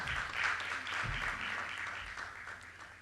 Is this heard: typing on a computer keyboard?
no